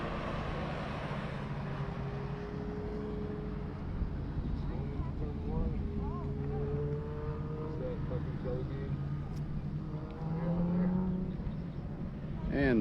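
The Michelin BMW race car on the Memphis track has its engine note rising and falling through gear changes, moderately distant, against a steady background rumble.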